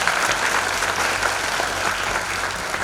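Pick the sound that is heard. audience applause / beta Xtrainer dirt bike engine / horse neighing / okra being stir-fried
audience applause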